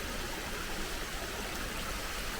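Clean, shallow mountain valley stream flowing steadily, a continuous broadband rush of water with no voices, close and even throughout.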